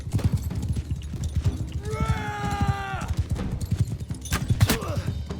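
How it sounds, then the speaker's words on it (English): Horse galloping through a crowd in Mount&Blade: Bannerlord, its hooves drumming in a steady, busy clatter over battle noise, with a horse whinny cutting in midway. "we're just riding our horse and trampling these people"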